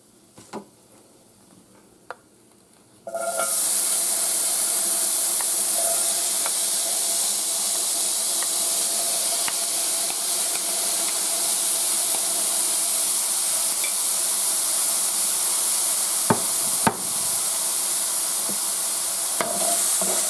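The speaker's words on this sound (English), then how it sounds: "I'm going to tilt my pan because next is the onions." After a quiet few seconds, onions land in a hot tilted pan for chicken fried rice and a loud, sustained sizzling hiss takes over, steady to the end with a few faint clicks.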